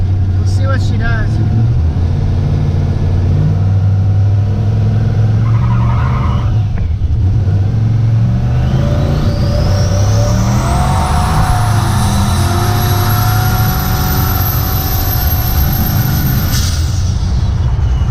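LS-swapped Ford Ranger with one turbo removed from its turbo setup, the engine loud and close, revving and pulling hard with a rising turbo whistle climbing steadily toward the end.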